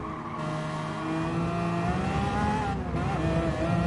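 A Lamborghini Aventador LP 700-4 races in Gran Turismo Sport, its engine a loud, sustained drone that rises and dips in pitch as it revs, with a hint of tire squeal.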